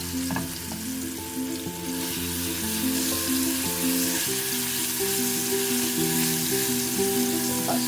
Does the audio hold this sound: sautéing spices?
yes